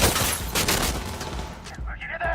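Gunfire in the video game Cyberpunk: a dense, continuous burst of rapid shots that fills the whole moment, with a voice partly buried beneath the din.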